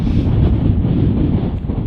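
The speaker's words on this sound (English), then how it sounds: "It's very windy." Strong wind on a cliff top roars and buffets the microphone continuously, a loud low rumble with no other sounds.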